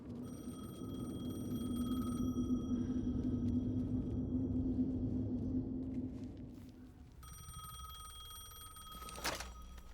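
A telephone rings in Alan Wake 2, heard as steady repeating electronic tones over a low rumbling, droning ambience, fairly quiet, with the ringing continuing alone and no voices.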